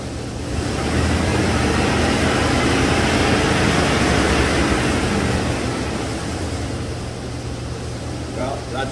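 A 1997 GM truck engine revs up and holds a steady, loud roar for several seconds before easing off slightly.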